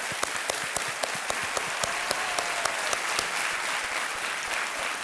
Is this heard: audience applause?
yes